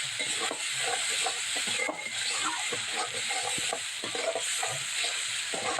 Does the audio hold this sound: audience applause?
no